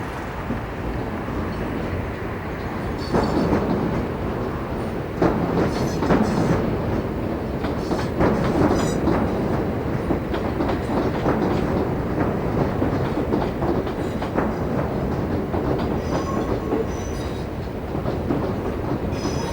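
Tramlink trams in old and new liveries passing each other at Blackfriars, a steady rumbling rail roar with wheel clatter that swells slightly as they go by, no voices.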